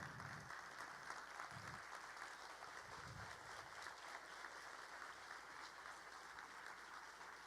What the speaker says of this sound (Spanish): Los invito a ponerse de pie y a recibirlo con un fuerte aplauso.